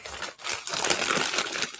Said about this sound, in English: Crumpling bags very loudly.